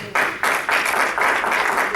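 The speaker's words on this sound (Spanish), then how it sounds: "¿Cuánto le dan un aplauso al Señor?" Congregation giving applause to the Lord during a Bible study, rhythmic unison clapping in regular beats, close and steady for two seconds.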